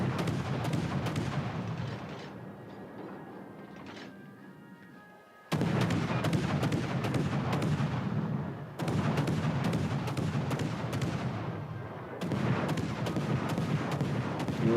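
Naval guns fire in World of Warships: Legends as heavy booming salvos with sharp onsets, separated by rumbling decays, loud and close against a constant low battle drone.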